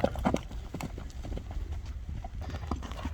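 Horse hooves clip-clop steadily on hard ground at a livestock sale, close and fairly loud, with a faint voice briefly in the background.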